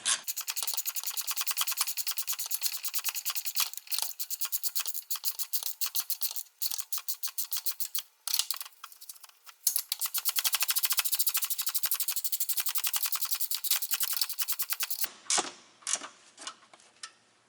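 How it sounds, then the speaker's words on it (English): A speed wrench runs down the upper strut nuts on a 2004 Ford Explorer 4X4 with rapid, continuous ratcheting clicks. The clicking is close and loud and goes on for about fifteen seconds before trailing off into scattered clicks. "Just have to get in there with my speed wrench and run them down."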